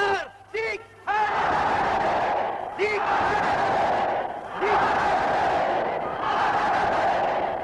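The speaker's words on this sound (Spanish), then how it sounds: "el aplauso de las multitudes" Crowd applause from a Nazi propaganda film rally, a roaring mass of clapping and cheering that rises in repeated waves, following a brief amplified voice at the start.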